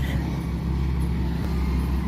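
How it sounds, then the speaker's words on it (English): A truck idles at a stop sign, its low steady engine rumble close and constant through a short stretch of street noise, with no talk. "The truck stopped at the stop sign."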